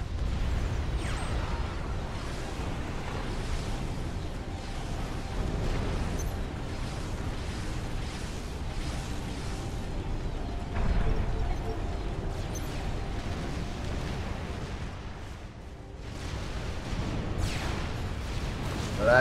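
Artillery barrages in Supreme Commander: Forged Alliance rumble on without pause, a dense wash of booming explosions and low impacts that never lets up.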